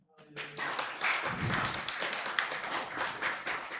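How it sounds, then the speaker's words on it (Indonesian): A church congregation claps together during a sermon, sharp crisp hand claps rising quickly into a busy, continuous roll with voices mixed in. "Mana tepuk tangannya?"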